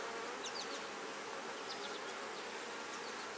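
Honeybees buzzing around an open hive during an inspection, a faint steady hum with individual bees zipping past close by, no voices.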